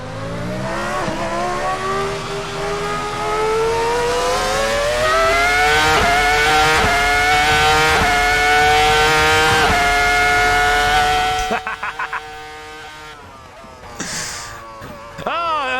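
A V10 Formula 1 car screams hard out of the pit lane, its loud engine climbing through rapid upshifts with sharp gear-change dips, then cutting away to quieter, stuttering revs near the end.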